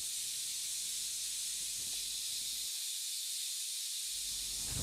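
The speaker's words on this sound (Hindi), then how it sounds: "एक कुकर बंद कर दीजिए, हंडिया ना लग जाए नीचे।" A pressure cooker vents steam in a home kitchen, giving a steady, continuous high hiss that holds throughout at moderate level, with a faint low rumble coming and going underneath.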